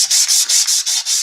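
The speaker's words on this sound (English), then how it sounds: "I'm going back with the finer sanding pad just to even out that top layer of that chalk paint" A fine sanding pad rubs over a chalk-painted wooden door hanger, a loud, close, hissing scrub in quick back-and-forth strokes, about six passes with no talk.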